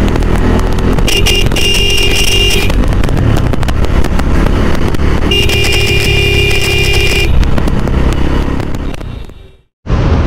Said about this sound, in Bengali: বাস আর ভ্যান সামনে রাস্তা ফাঁকা না হবে কোনো কারণ নেই, রাস্তাটাকে জাম করে রেখেছে